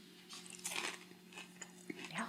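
Homemade tater tots bitten and chewed up close, crisp crunches and soft mastication in short irregular bursts over a faint steady hum.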